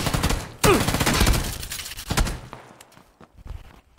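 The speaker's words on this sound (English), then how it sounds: "he really like shot like 5 bullets at me" Rapid burst of gunfire in PUBG, a loud volley of several close shots with a bright sweep, then scattered fainter shots and footsteps trailing off.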